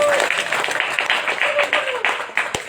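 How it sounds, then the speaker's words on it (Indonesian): A small group at an indoor gathering claps in quick, uneven bursts, with voices speaking and calling out over the applause. "Tepuk tangan toh."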